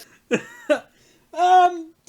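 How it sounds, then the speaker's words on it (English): A short, close throat clearing in two rough bursts, followed by a longer voiced sound that could be a cough or a brief laugh. "just had to clear my throat there"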